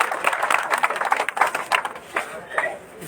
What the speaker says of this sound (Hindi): सभी जोरदार तालियों से अभिनंदन करें